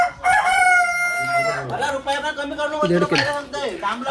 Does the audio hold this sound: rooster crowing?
yes